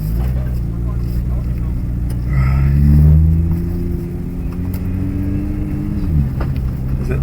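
A Nissan GTR pulling forwards in gear, a low steady engine rumble that swells briefly as it moves off, heard from inside the car while people talk.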